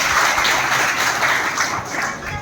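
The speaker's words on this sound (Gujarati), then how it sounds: "તાળીઓ." A school staff audience at a teachers' day celebration breaks into steady, dense applause, many hands clapping together throughout at a fairly loud level.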